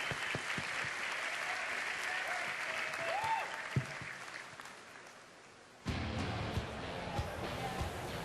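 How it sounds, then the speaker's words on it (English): Audience at a BlizzCon Diablo 3 Q&A panel applauds as the session ends, a steady roll of clapping that thins out and then gives way to a louder burst of room noise. "Everybody give them a round of applause."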